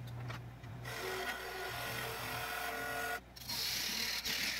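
A turning tool slides across a spinning pine bowl on a lathe, making a continuous close rasping scrape with a steady motor hum, broken by a brief lift near the end, with no voices present.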